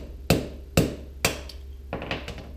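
Three sharp, hard metallic strikes of a steel hammer on concrete ring out in an even rhythm, followed by a few softer, scattered knocks.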